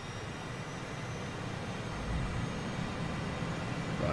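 A light aircraft engine in Microsoft Flight Simulator 2020 throttles up for takeoff, a steady droning roar that swells louder partway through and holds, with no voices.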